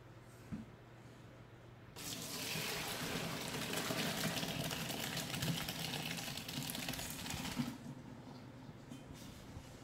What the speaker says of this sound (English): let's drain the pasta